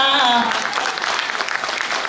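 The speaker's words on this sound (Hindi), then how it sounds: "जोरदार तालियां होनी चाहिए" Audience applause at a poetry reading of Urdu ghazal, a dense crowd of clapping that is loud at first and carries steadily; a sung or spoken voice trails off at the start.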